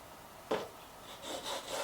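A bone guitar saddle is rubbed across sandpaper in a few faint, short back-and-forth strokes, the first slightly sharper than the rest.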